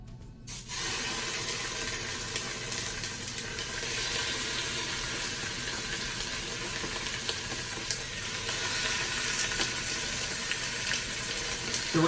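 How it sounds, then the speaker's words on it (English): A chuck roast sears in hot olive oil inside a Ninja Foodi, a steady, dense sizzle that holds evenly throughout at moderate loudness with no voices. "Then we're gonna sear our chuck roast."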